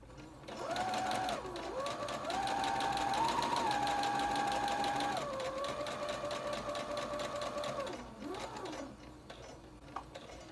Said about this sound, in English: I'm just going to sew until I get to the other side.